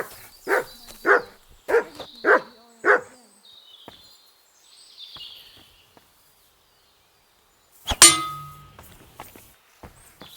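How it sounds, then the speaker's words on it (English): A dog in the medieval game Kingdom Come Deliverance II barks five times in a quick, evenly spaced run, followed by quiet and then a sharp metallic clang. "Good dog"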